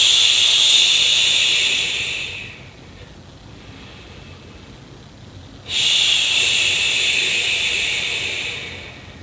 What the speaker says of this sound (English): you can utilize the long shh exhale again